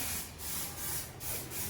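An aerosol can sprays paint onto an eco-friendly Ganesh festival decoration made from waste materials, a near hiss in three or four quick bursts with short breaks between them.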